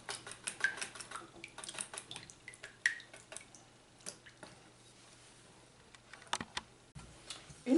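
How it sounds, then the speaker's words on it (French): Flan ingredients with vanilla being stirred together in a Cookeo bowl, soft irregular clinks and scrapes of a utensil against the bowl, faint and close, with a brief louder knock at the end. "Et on mélange tout ça."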